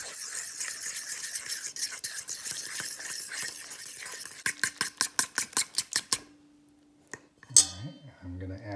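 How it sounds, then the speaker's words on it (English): Flour and avocado oil mixed into bread dough in a bowl: rapid metallic clinking of a utensil against the bowl, then a faster run of evenly spaced taps before stopping, followed by a brief knock and some quieter handling. "I'm just going to add about half right now and then mix."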